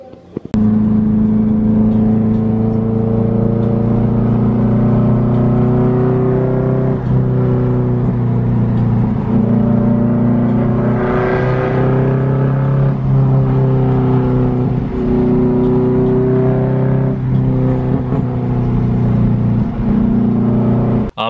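A Nissan S14 Kouki 240SX engine idles with a deep, raspy drone through blast pipe exhaust, then revs up and settles back down, loud and close throughout.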